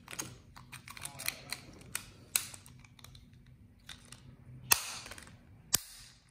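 Plastic clicks of a Tesla S75 key fob case being handled and snapped shut, several quiet taps followed by two sharper distinct clicks near the end, close and alone.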